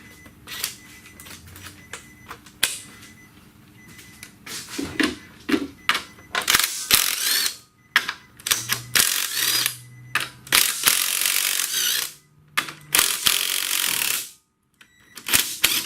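A ratchet turns a 16mm socket on a 2008 Nissan Altima during a valve cover replacement, giving loud, close bursts of rapid clicking that start and stop in uneven runs, with short quiet gaps between them.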